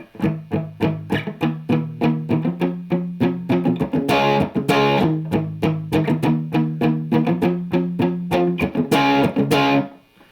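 Chugging palm-muted distorted electric guitar plays a tight, repeated rhythmic pattern, with a few brief open strums ringing out between the muted notes.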